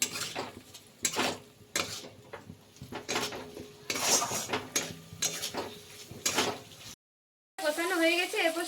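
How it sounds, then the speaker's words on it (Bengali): Cauliflower with turmeric and salt is fried and stirred in a pan, with repeated rhythmic scrapes and clanks of a utensil against metal over a soft sizzle, then a brief silence before a different busy sound. "এগুলো দিয়ে দিয়েছি এবং খুব ভালোভাবে ভাজতে থাকবো।"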